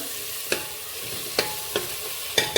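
Ginger and garlic sauté in a pan with a steady, soft sizzle, broken by a few sharp scrapes of a spoon stirring at uneven intervals. No one speaks.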